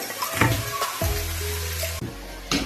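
Coconut pieces dropped into a pan while making a mutton curry, a loud close sizzle with sharp hissing bursts as they hit the hot oil, then a steady fry.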